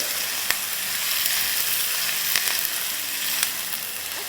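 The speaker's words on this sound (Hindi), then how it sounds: "और कुछ कड़ी पत्ते डाल देंगे, जैसे 5-6 कड़ी पत्ते डाल देंगे। और इसको सौटे करेंगे।" Curry leaves sauté in hot oil with a steady, close, dense sizzle and crackle, broken by a few sharp pops and a light stir, with no voices.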